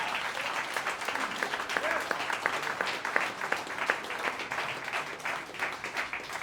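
Audience applause for a college jazz orchestra at a concert with a guest trumpeter, a steady crowd of clapping with distinct individual claps standing out and some voices underneath.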